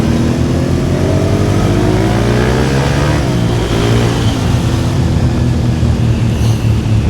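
A Japanese V-twin superbike accelerates hard with the throttle wide open, its engine note loud and continuous, rising steadily in pitch for about seven seconds with no talk over it.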